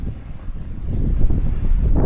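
Strong wind blowing across the microphone on Marmara Island in Turkey, a loud, continuous low rumble that swells slightly toward the end, with no talk.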